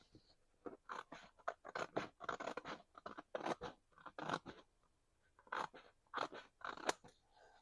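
Scissors trimming paper for a scrapbook layout: quiet, close crisp snips and crunchy cuts in quick bursts, pausing briefly between strokes, with no talk.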